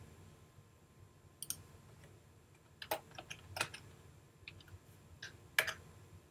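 Sparse computer mouse clicks, single and double, close and quiet against a faint steady hum, with no talking.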